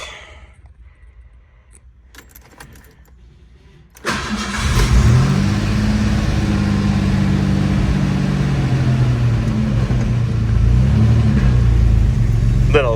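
Ford Ranger pickup engine, just tuned up, starts after a quiet few seconds and settles into a loud, steady close-up idle with a faint rev rise later on.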